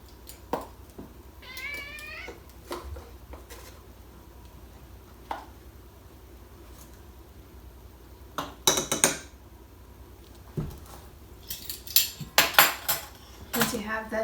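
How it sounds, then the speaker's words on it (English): Flour, salt and baking soda are stirred together in a bowl, with a run of utensil clinks and scraping against the dish that turns busier and louder near the end, and a cat meows near the start. "you're just going to give this a quick mix to get everything incorporated."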